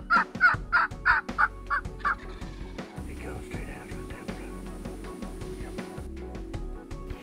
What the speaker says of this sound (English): and more birds start to gobble.